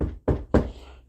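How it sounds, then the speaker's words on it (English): Three firm knocks on a door, close and loud, with short gaps between them and nothing else heard. "Oh, looks like there's a knock at the door."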